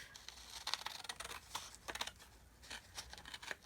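Scissors snipping through paper while making journal cards, a quick run of sharp, close, fairly quiet clicks and crisp cuts with short pauses, no voices.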